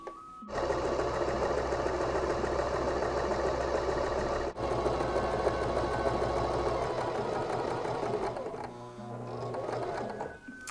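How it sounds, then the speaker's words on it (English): A sewing machine runs in a fast, steady whir of rapid stitching, pausing briefly and then slowing near the end. "You wanna turn on your sewing machine first."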